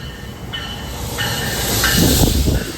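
A commuter train bound for Penn Station rumbling along up close, with a steady mechanical drone, faint whining tones and a swelling hiss of wheels near the end.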